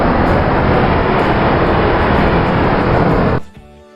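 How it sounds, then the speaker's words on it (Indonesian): A loud, steady rush of wind roars without a break for a few seconds, then cuts off abruptly into quiet. "bunyi angin bertiup"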